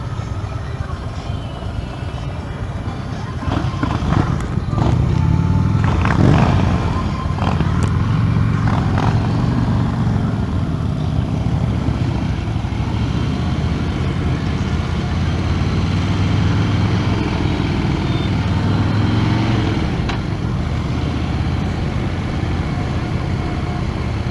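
A 2016 Harley-Davidson Slim S on a test ride gives a steady, loud engine rumble with wind roar, holding constant throughout with a slight swell early on.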